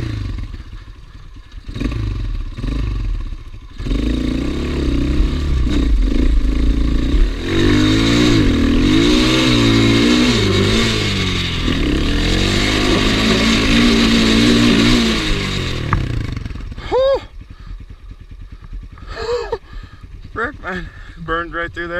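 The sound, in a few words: Gio 250cc enduro motorcycle revving up muddy hill climb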